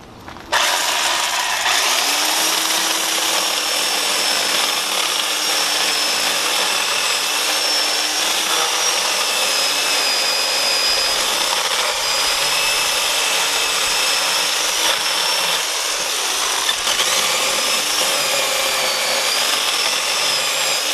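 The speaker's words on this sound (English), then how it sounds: "show you some cutting with this chainsaw." A Homdox 15 amp 18-inch electric corded chainsaw cuts through wood, its steady high motor whine and chain rasp running loud and continuous for about twenty seconds with a slight pitch dip under load.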